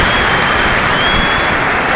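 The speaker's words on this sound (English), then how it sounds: "Oh, the crowd love this." A 1970 rugby crowd at Gosforth, watching Fiji play the Barbarians, applauds and cheers in a dense, steady roar of clapping that fills the whole stretch.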